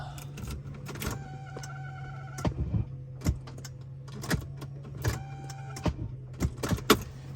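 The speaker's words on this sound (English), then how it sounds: "Let's see if she's ready to crank." A Mercedes engine cranks in two separate attempts, each a whining starter burst of about a second and a half, over a steady low hum and scattered sharp clicks, without catching.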